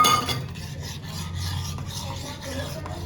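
Rice powder and potato juice being mixed by hand into a soap paste, giving a steady rasping, rubbing scrape that repeats in short strokes, close and fairly loud with no voices.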